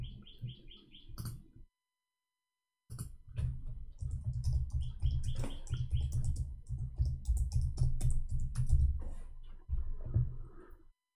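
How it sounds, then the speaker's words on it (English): Rapid clicking of computer keyboard keys in irregular bursts, close and crisp, with a pause of about a second early on, accompanied by faint high chirps and no speech. "I was typing in Arabic."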